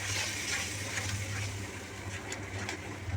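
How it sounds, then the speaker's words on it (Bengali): Spice paste of turmeric, Kashmiri chilli powder and sour yogurt fries in oil in a wok for a pomfret curry, giving a steady close-up sizzle with faint stirring scrapes and a low background hum. "দিয়ে ভালো করে মশলাটা কষে নিতে হবে যতক্ষণ না তেল ছাড়ে।"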